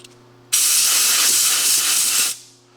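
A loud, steady hiss of compressed air lasting about two seconds blasts brake cleaner off a freshly threaded, machined gun barrel in a workshop, then tails off into quiet.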